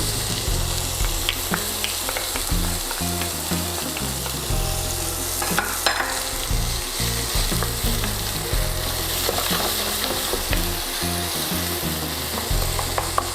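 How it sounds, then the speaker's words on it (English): Bacon and white onion sizzling in a pan, a loud continuous crackle with frequent spatula scrapes and stirring, close up and without talk. "So spread these across the pan. And the objective here is to get a nice crisp on these bacon."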